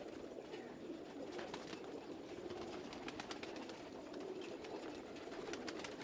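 Pigeons of the Tumbler, Jansa and Vashi breeds kept for sale murmur and coo steadily for about six seconds, with soft fluttery calls and light background chatter, no speech.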